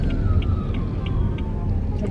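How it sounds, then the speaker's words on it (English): An ambulance siren passes outside a car at a fast-food drive-thru: a steady wailing tone, moderately faint and slowly falling in pitch, over the low rumble of the car's interior. "Ambulance."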